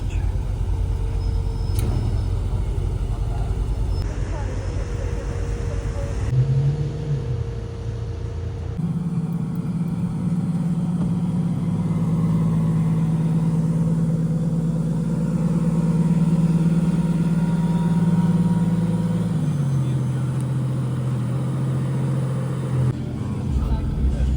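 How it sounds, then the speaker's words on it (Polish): Engines of a new Aston Martin Vantage Roadster and a Vanquish V12 at a night photo shoot on a Warsaw street, giving a steady low rumble that rises and swells midway, with talk over it. "Nowy Vantage Roadster i nowy Vanquish V12."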